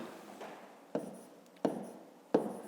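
Numbers are written by hand for long division, with a soft pen or chalk scratching and three sharper taps as strokes begin, close and quiet with no talk.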